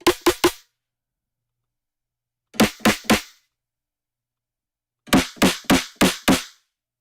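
Harsh, heavily distorted snare hits come in quick groups of three, three, then five, with silent gaps between the bursts.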